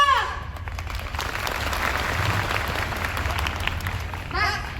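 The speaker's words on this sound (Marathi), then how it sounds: "मंडळी टाळ्या." Sustained audience applause at a Marathi-language school event in Nashik, a dense, steady clatter of many hands running the whole time at a fairly even level, with a brief voice at the start and near the end.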